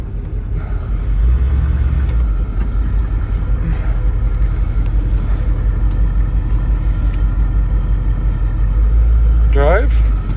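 A 1979 Ford super cab 4x4 truck with a fresh engine idling, a loud steady low rumble heard from inside the cab, with brief clicks and a short squeak near the end.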